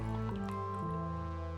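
Water pours and gurgles into a pot holding tamarind, the pitch rising briefly as it fills, a short steady stream close by.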